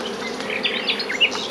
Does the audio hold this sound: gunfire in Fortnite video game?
no